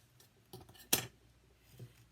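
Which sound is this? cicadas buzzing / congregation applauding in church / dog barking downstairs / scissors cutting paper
scissors cutting paper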